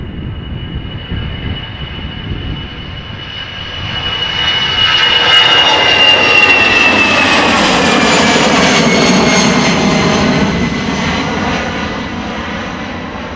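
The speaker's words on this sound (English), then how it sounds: "So, another EasyJet Airbus underway." An EasyJet Airbus A319 takes off from Amsterdam Schiphol, with jet engine noise building to a loud, sustained roar and a high whine that sweeps downward as the aircraft climbs away.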